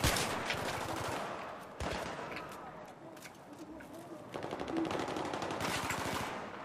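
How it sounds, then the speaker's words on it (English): Automatic rifle fire in the video game Battlefield 3 crackles in dense, rapid bursts, loud and continuous throughout, with some mixed battlefield noise in the background. "Where's all this gunfire coming from?"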